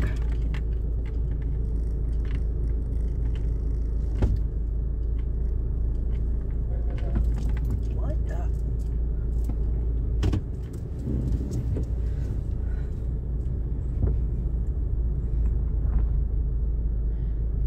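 A car creeps along as it is moved to another parking spot, giving a steady low engine rumble heard from inside the cabin, with faint clicks and knocks.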